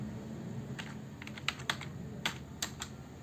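Keys clack on a computer keyboard during typing practice, with scattered sharp taps clustered in short bursts, fairly close and clear over a quiet room hum, no voices.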